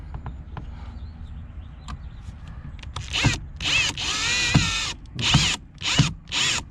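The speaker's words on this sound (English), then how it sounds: "Go in with low tension on your screw." A power drill drives a screw into a panel on a 2007 Chaparral Sunesta 214 boat, heard as several close, loud whirring bursts of varying length separated by short pauses, after a quieter stretch of faint handling noise.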